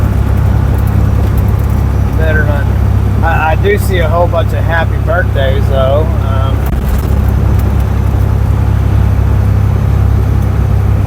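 A car drives along a road, a loud, steady low rumble of engine and road noise throughout, with someone talking over it for part of the time.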